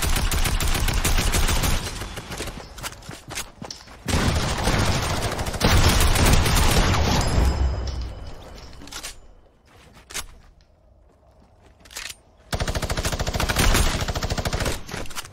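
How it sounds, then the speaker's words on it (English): Heavy gunfire in Fortnite's John Wick game mode: loud, dense bursts of rapid shots with short pauses, then quieter stretches before more volleys break out near the end. "Are they shooting at you?"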